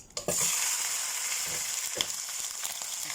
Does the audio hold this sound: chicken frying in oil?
yes